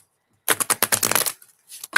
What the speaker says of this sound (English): Shuffling these babies.